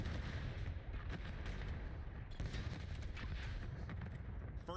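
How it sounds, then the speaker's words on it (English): Explosions and gunfire boom continuously through the opening of a Call of Duty match, a dense, loud barrage of blasts and rumbling with no pauses across the whole stretch. "You sort of wait for the explosions to pass, and then we get into it."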